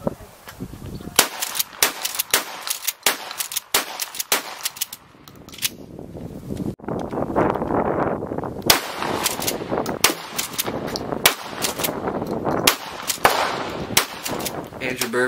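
Mossberg 500 shotgun being fired over and over, sharp loud blasts at an irregular pace, some in quick runs and others spaced apart, with a stretch of dense, rolling gunfire from other shooters nearby and some talk under it.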